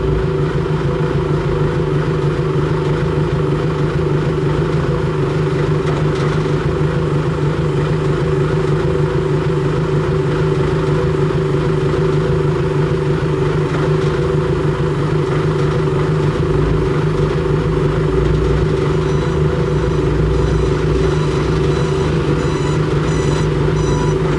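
A Cat D3K2 dozer engine runs rough at idle after a hard start, giving a loud, steady mechanical drone with strong low hum tones that persists for the whole stretch, with no talking.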